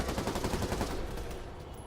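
Rapid bursts of gunfire in a Spider-Man video game, loud and dense, tapering slightly toward the end.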